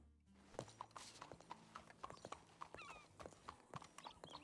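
Horse hooves clip-clop in the game Red Dead Redemption 2, a quick steady walking rhythm of sharp hoof strikes with a brief whinny-like tone, close and moderately quiet, no talk.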